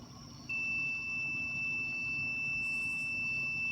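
A thin, steady high-pitched electronic tone from a thermometer's over-temperature warning at a forge sounds continuously over a low background hum, with a brief brighter chirp partway through.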